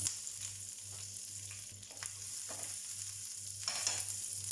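Quiet, steady sizzle and crackle of fenugreek leaves frying in hot oil with red chilli, with a faint low hum and soft clicks in the background.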